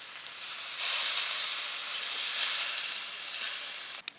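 Water is poured into a hot pan of sautéed mushroom and potato curry, setting off a sudden loud sizzling hiss. The hiss holds steady, then fades slightly before ending, with no speech.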